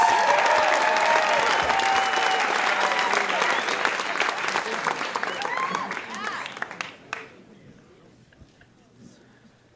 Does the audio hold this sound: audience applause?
yes